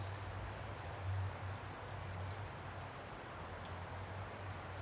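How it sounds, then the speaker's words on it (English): Shrimp cooking water poured from a pot while straining it for Ecuadorian shrimp ceviche, a steady close splashing wash with a low hum underneath. "gonna take this water, just pour it here."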